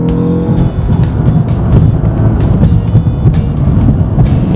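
A car driven spiritedly along a country road gives a loud, continuous engine roar heard from close by, with a steady rumbling drone and no break throughout.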